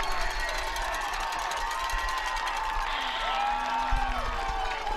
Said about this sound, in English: Listen to this Bearcat crowd come alive.